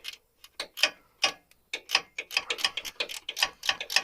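A tight threaded pump is cranked into place by hand, giving a run of short ratcheting clicks. The clicks come irregularly at first, then quicken into a steady close rhythm, fairly loud and with no talk over them.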